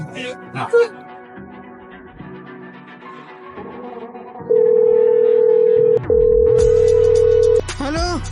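A steady telephone dial tone sounds loudly for a few seconds with one brief break, after some muffled voices and handling noise.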